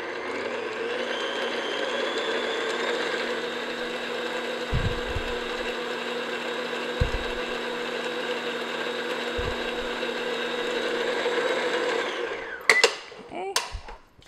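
An electric hand mixer beats chocolate crinkle cookie dough in a bowl, a steady whirring drone running for about twelve seconds with a few soft knocks, then stopping amid clatter.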